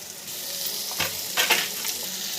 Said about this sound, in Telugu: 5 నిమిషాలు ఉడికిన తర్వాత టమాటా ముక్కలు వేసుకోవాలి